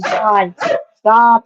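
A pet dog barks nearby, three loud, close barks with gaps between them, while a person speaks over the top.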